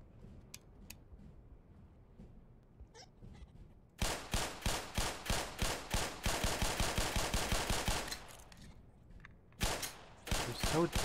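Rapid, evenly spaced pistol shots in Black Mesa ring out in a long loud string, pause, then resume in short bursts, with faint movement sounds before the firing starts.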